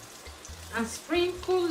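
Tomatoes frying in hot oil make a soft, steady sizzle beneath a voice speaking over it, the crackle staying low and close throughout.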